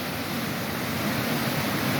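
Floodwater rushes down a full mountain creek after rain, a steady, loud broadband roar of churning water with no letup, close to the bank.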